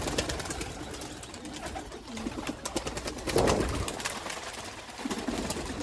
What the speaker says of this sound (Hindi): ये 19 कबूतर आज निकाले हैं।